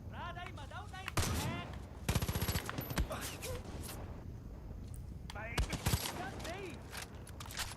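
Rapid bursts of gunfire from a gun in the video game Hours of Darkness, loud and close, firing in dense volleys with short gaps, mixed with other game sounds and speech.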